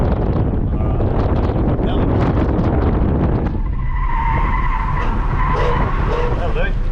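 A modified Ford AU Falcon drifts at Queensland Raceway during Friday night drift sessions, engine roaring and tyres screeching through a corner, loud and close with heavy wind buffeting on the microphone; the tyre squeal rises and wavers in the second half.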